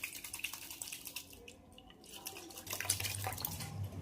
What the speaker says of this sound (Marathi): छोले पाणी घालूया